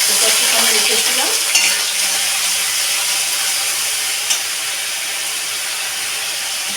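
Onion paste frying in oil and stirred steadily with a spoon while making mughlai paratha, a continuous close sizzle with scraping strokes and a couple of sharp clinks against the pan, with no talking.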